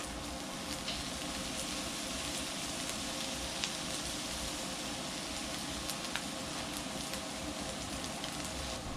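Cilantro lime shrimp stir fry sizzles steadily on a Blackstone griddle, a dense, even crackle filling the whole stretch with a few sharp pops, close up and with no talking.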